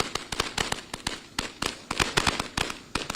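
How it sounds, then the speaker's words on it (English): Consumer sparklers in New York State crackle and pop in rapid irregular bursts of sharp snaps, fairly close and continuous, with no voices over them. "These are known as sparklers here in New York State."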